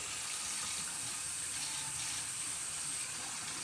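Lukewarm water runs steadily from a tap while locs are rinsed, a dense, even hiss and splash that holds the whole time at close range.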